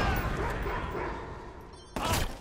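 A dog barks a few times inside the video game Watch Dogs 2, over a steady bed of game ambience, with a sharper, louder burst near the end.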